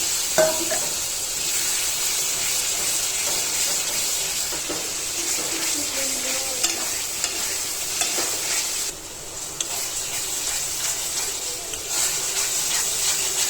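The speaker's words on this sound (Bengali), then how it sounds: "মশলাটা কষানো হয়ে গেছে।" Spice paste with sauce, sugar and a splash of water sizzling in a pan for chicken roast, a constant close hiss with scraping stirs and occasional pops, no talking.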